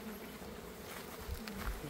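Honeybees buzz around a beehive box during a beekeeping inspection, a steady, moderately close drone with no talk over it.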